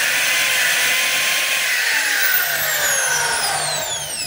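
A DeWalt D25124 hammer drill on the bench runs steadily and loudly for the whole stretch, a constant high motor whine with sweeping tones as it spins, no talk over it.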